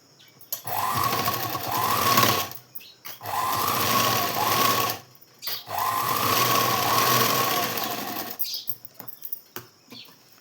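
A sewing machine stitching blouse fabric runs in three long, steady whirring bursts of about two seconds each, close and loud, separated by short pauses, with brief handling noise at the end.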